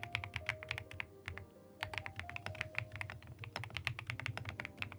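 Fast, crisp clacks from a thocky marshmallow computer keyboard, many quick keystrokes in an irregular stream with brief pauses, close and quiet, no talking.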